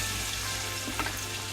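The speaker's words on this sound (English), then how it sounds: "Right here on the fire, we want to add in some oil." Palm oil hisses and sizzles in a hot pot over a fire, a steady broadband fry up close with a faint low hum underneath and no talk.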